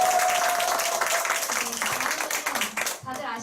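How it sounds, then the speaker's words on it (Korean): A meeting audience applauds, a dense wash of clapping that swells and then tapers off over a few seconds, with voices talking over it near the end. "다시 한번 큰 박수 부탁드리겠습니다"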